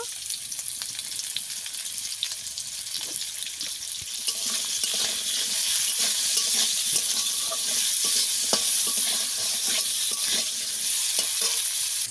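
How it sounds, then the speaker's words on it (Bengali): Sweet potatoes frying in a pan for a sour dish with pond puti fish, a continuous close sizzle that swells louder after a few seconds, with occasional stirring scrapes. "মিষ্টি আলুগুলো আমি কিছুক্ষণ ভেজে নিয়ে"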